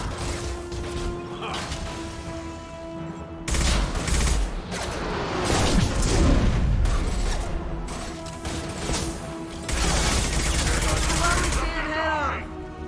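Heavy Mass Effect 2 combat: a grenade blast swells out of steady gunfire and mechanical clatter, with bursts of loud noise recurring over nearly thirteen seconds and game voices speaking between them.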